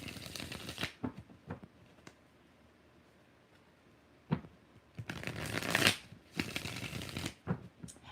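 Tarot cards are riffled and shuffled in several quick bursts, crisp and close, separated by short quiet gaps.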